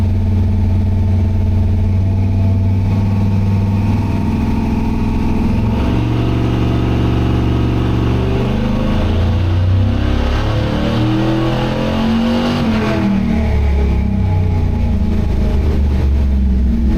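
A clean LS3 V8 swapped into a Chevrolet C10 truck, tuned on a Holley Terminator X, revs loud and close. The engine rises smoothly from idle to a high sustained rev, wavers near the top and then settles back down.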